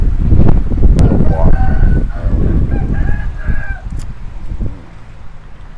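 A fighting cock crows at a fishing pond in Thailand, its drawn-out call rising over a busy, noisy outdoor background with scattered knocks and rustles.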